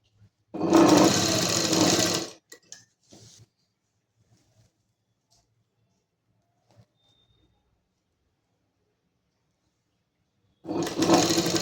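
A sewing machine stitches the sleeve of a kurti in two bursts, a loud steady whirring run near the start and another at the end, separated by a long near-silent stretch with faint handling sounds.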